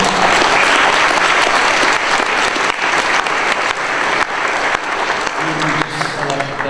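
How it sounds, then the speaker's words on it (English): A political rally crowd in Minneapolis gives loud, sustained applause for newly arrived committee members, a thick roar of clapping that stays strong throughout, with a voice coming in faintly near the end. "So I want to give them actually a round of applause."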